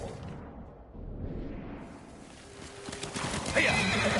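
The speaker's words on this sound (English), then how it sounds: "Horse!" A horse in the video game Ghost of Tsushima whinnies and gallops, hooves clip-clopping in a quickening rhythm beneath a loud neigh, with a whoosh of motion and no talking.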